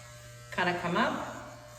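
An electric hair clipper buzzes steadily while cutting hair and starts partway through, close and moderately loud beneath a person talking.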